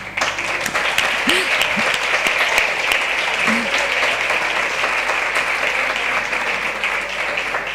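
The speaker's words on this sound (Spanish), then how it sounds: "le vamos a dar un aplauso por haberse quedado" Sustained audience applause at an institutional event marking the International Day Against Gender Violence, a broad, even roar of many hands clapping that stays steady throughout.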